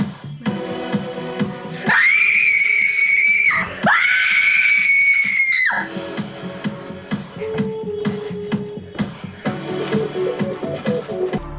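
A person screams loudly and uncontrollably in two long, sustained, piercing bursts, then the noise settles into a busier background of music or shuffling.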